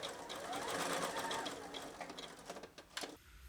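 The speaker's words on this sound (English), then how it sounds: "While we have the conventional sewing machine out, now is a good time to prepare the neckband" A conventional sewing machine stitches the short ends of a T-shirt neckband together into a circular band, a quiet, fast, steady mechanical whirr with rapid needle ticking that slows and stutters near the end.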